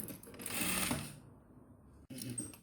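A sewing machine makes a short burst of stitching through the lining of a double fabric wallet. The motor whirs close for about a second, then falls quiet before a small clack.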